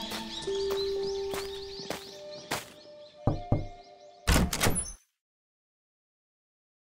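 Knocks on a wooden door followed by the door sliding open with thunks, set in a quiet clinic deep in a forest with birds chirping, ending abruptly in silence.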